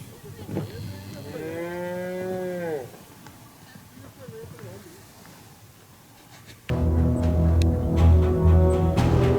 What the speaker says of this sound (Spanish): Ahí están bajando otra cantidad de ganado con caballo.